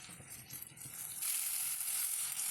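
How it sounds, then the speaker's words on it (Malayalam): Marinated chicken sautéing in a pan over a high flame gives a steady sizzle that swells louder about halfway through and holds there, close by, with no voices. "ഇനി നമുക്ക് മാരിനേറ്റ് ചെയ്ത് വെച്ച ചിക്കനും ചേർത്ത് ചിക്കൻ ചെറുതായി ഒന്ന് കളർ മാറുന്നവരെ 2 മിനിറ്റ് കൂടി ഇതുപോലെ വഴറ്റിയെടുക്കണം."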